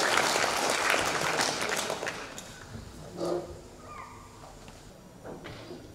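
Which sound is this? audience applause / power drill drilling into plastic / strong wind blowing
audience applause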